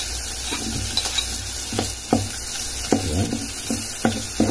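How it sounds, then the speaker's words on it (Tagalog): Chopped ginger tossed into softened onions in a pan for lugaw, a steady close sizzle broken by rhythmic scraping knocks of a spatula stirring, no voices. "Ayan, ilagay na natin ang luya"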